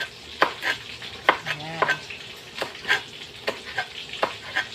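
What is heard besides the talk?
food frying and being stirred in a pan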